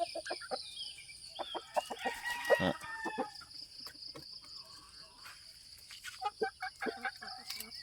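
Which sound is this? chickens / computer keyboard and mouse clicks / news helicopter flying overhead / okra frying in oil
chickens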